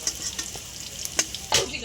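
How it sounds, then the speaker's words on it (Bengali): Turmeric-coated cauliflower fries in oil, a close sizzle broken by a few quick scraping stirs as the florets are moved and lifted from the pan. "তো ফুলকপিগুলো ভাজা হয়ে গেছে তুলে নিচ্ছি"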